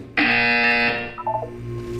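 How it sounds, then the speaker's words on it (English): Buzzer in the video game Portal 2 sounds once, a loud harsh electronic tone lasting nearly a second, then decays, followed by a short chirping blip. "When you hear the buzzer, look up at the ceiling."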